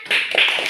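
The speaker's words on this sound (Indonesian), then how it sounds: "Mari kita tepuk tangan." A school class clapping hands together, a short burst of quick claps lasting under a second, close and fairly loud.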